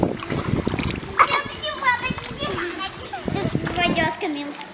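A child plays in a hotel swimming pool on the Black Sea coast, with repeated soft splashes of water close by while a child and an adult talk over them.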